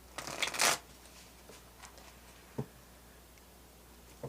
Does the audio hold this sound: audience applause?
no